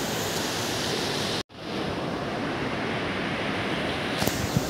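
Water pours from Panchnadi dam down into the river below, a continuous loud broadband rush like a waterfall, steady throughout with only a brief dropout.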